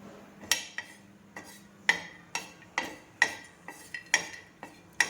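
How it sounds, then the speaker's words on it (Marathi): Grated coconut roasting in a little oil in a pan for dhaba-style shev bhaji, with sharp metallic scrapes and clinks of a spatula against the pan in an irregular rhythm over a faint low sizzle, close up. "थोडे तेल टाकत आपण हे खोबरे भाजणार आहोत."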